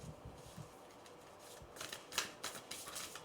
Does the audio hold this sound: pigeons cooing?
no